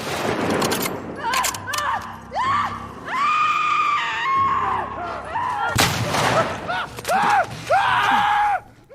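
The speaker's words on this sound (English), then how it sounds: "Some of them go out with this long, despairing scream or a harrowing croak." Anguished screams and harsh croaks of dying enemies in The Last of Us Part II rise and fall one after another, loud and close, over a dense clatter of gunfire and combat noise.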